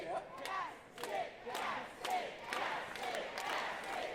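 Crowd at a cosplay chess event cheering and shouting in repeated swelling bursts, a lively mid-distance roar with scattered voices and occasional thuds.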